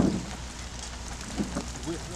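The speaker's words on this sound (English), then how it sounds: "Ah, it's raining." Steady rain hissing and pattering nearby, a broad continuous wash with a few louder drops, and some faint voice sounds underneath.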